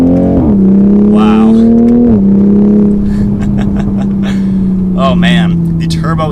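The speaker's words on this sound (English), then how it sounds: "we'll do a little bit of an acceleration just to get a taste" A 2020 Toyota GR Supra Launch Edition with a turbo engine pulls hard under acceleration, its loud exhaust note climbing and dropping through gear changes while someone talks over the drone.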